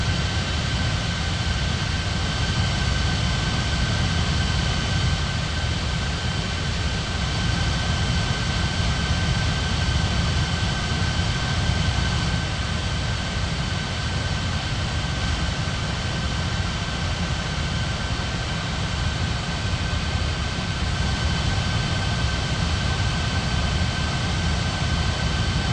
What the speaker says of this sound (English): Emirates 6505 ready for takeoff on 32.